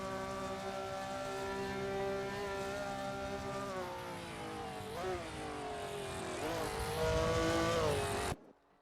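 Video game race cars, a Plymouth Barracuda and a Chevrolet Corvette, battle on a track with engines droning and revving, pitch rising and dipping through gear changes, before cutting off abruptly.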